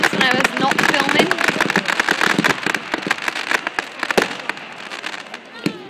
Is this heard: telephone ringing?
no